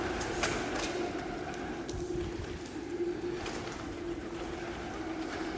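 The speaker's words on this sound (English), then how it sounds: "The pigeons love it in here though, with these ledges that they can sit on." Pigeons coo and their wings flap as they take off inside an abandoned prison, soft low cooing under a roomy hiss with several sharp flutter bursts.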